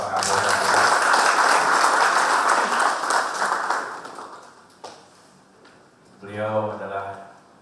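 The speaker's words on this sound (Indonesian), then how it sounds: "Tepuk tangan untuk Bapak Kapolda." An audience applauds the regional police chief of East Java at a formal official event, a loud sustained burst of many hands that fades after a few seconds before a voice speaks.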